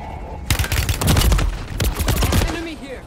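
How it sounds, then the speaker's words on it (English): Rapid bursts of automatic gunfire in MW3 Warzone erupt after a quiet start, loud and close, with a short pause before a second volley and a brief tail of fainter shots. "Getting shot at from the roof again."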